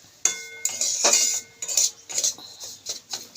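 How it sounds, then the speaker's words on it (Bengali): A metal spoon stirs and scrapes grated carrots around a pan while making carrot halwa, giving repeated close clinks and scrapes in an uneven rhythm, with no talking. "দিয়ে এটা একটু নাড়াচাড়া করতে হবে নাহলে একটু মিশবে না এটার সঙ্গে গাজরের সঙ্গে"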